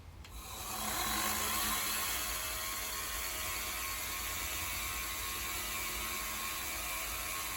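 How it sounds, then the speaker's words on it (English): A knife bevel is ground on a 240 grit belt, giving a steady, fairly loud rushing abrasive hiss over a low motor drone that rises within the first second and then runs evenly with no speech. "we're just going to grind those bevels in and then just work it up again to the 400"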